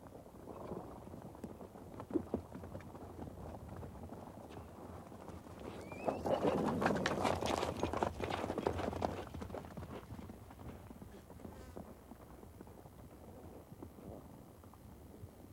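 Horses ridden by nomads on open grassland clip-clop in a steady rhythm, growing louder and closer mid-way, with faint background ambience and no talk.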